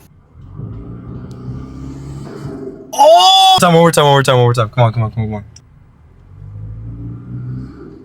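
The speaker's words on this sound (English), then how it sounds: "All right, just some light revs." A turbocharged Lexus IS with an HPS cold air intake rumbles at idle, then a few loud, sharp revs burst out in the middle before it settles back to a steady idle, with people talking close by throughout.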